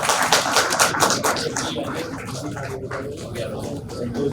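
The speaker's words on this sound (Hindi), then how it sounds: "तालियां बजाने में कंजूसी मत करिए भैया।" Audience applause at a Sampoornta Abhiyan honour ceremony, dense clapping that is loud at first and then thins and fades over several seconds.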